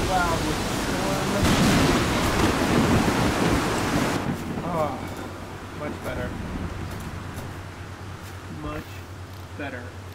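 Loud in-game storm in the survival game Planet Nomads, a roaring wash of wind and rain that swells, then eases after a few seconds into a lower steady rumble with a few faint tonal blips.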